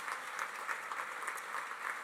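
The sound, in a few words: applause for the hosts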